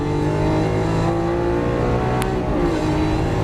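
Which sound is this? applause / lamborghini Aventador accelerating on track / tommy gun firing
lamborghini Aventador accelerating on track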